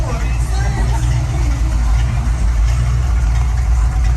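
A Ford truck engine idles through its new exhaust, a deep, steady low rumble running continuously throughout, close and fairly loud, with no change in pace.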